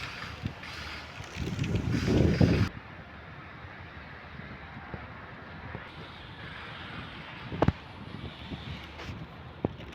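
Steady wind rushes across the microphone, a loud gust buffeting early on, then softer airy noise with a few brief knocks.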